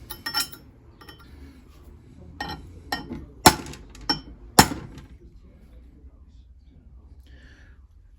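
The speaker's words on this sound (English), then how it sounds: "So we get the center punch." Several sharp metallic taps, a center punch striking a bolt at irregular intervals during a turbocharger repair on a Jeep Patriot 2.0 TDI, two of them noticeably louder, close by over a low background hum.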